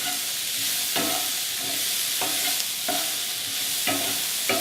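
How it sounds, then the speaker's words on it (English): Zucchini sautéing over high heat in a pan makes a constant bright sizzle, cut at a regular pace by scraping stirs about once a second, close and without speech. "Now the key with a sauté is cooking something over a high heat, but you have to continue stirring it constantly or else it will burn."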